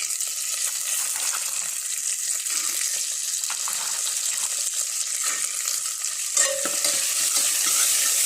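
Red butter beans are stirred in a hot pan with sautéed ginger and garlic, giving a steady close sizzle and frying hiss with soft scraping of the spoon, and no talking.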